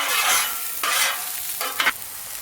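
Sliced onions and mushrooms sizzle on a Blackstone griddle over low and medium burners, with a steady close frying hiss broken by a few scraping strokes of a spatula stirring them.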